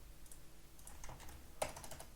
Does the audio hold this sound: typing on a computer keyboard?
yes